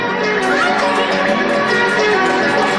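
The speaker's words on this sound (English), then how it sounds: "A round of applause." An audience at a comedy stage hypnosis show around 2000 breaks into dense, loud applause mixed with cheering and crowd noise, filling the room without letup.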